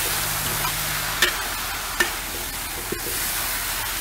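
Hainanese-style stir-fry with soaked dried lily flowers sizzles in a pan, a steady frying hiss broken by a few sharp scrapes and knocks of a utensil stirring, without any voices.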